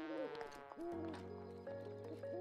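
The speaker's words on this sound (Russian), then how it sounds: "А где огромный конь?" Horse hooves clip-clopping with a neigh from the horse in the video game The Legend of Zelda: Breath of the Wild, steady and close, layered with game music and people talking.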